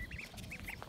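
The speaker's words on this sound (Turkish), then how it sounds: "Ayşe'nin vak vakları." Ducks in a coop give a few soft, short quacks, faint and close together over low background noise.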